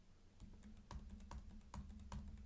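Keys clatter on a computer keyboard during a GDB debugging session, a steady run of clicks with several sharper strikes, close and fairly quiet, with no voice.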